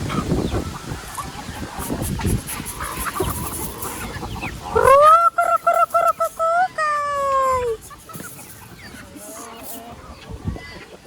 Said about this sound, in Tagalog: Pamuhi pagdaghang manok.